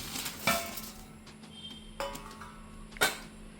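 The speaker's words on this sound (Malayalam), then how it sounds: "അങ്ങനെ ചിക്കൻ ബിരിയാണിയുടെ ദമ്മ് പൊട്ടിക്കുകയാണ് കേട്ടോ" Someone opens the sealed dum pot of chicken biryani with three sharp metallic clanks of lid and vessel, spaced about a second apart, against a quiet kitchen background.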